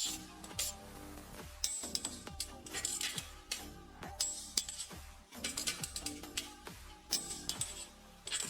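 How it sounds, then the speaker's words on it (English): A ratchet wrench tightening wheel lug bolts on a BMW 530Li, with repeated rapid clicking bursts of the pawl and short pauses in between, close and clear. "Standard torque, Tighten wheel lug bolts."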